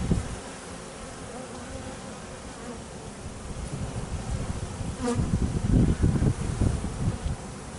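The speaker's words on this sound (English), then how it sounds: "see the amount of bees on here." A dense, steady buzz of many bees during a beehive removal, close by, growing louder and busier toward the end with rustling handling noises of comb frames.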